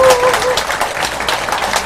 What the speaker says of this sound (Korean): 우리 건강하시라고 박수 한번 보내주시기 바랍니다